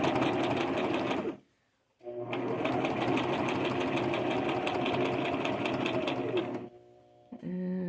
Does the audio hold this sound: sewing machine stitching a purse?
yes